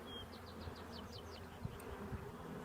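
Honeybees buzzing during a hive inspection, a steady, even insect drone close by with faint rustling and handling knocks, no talking.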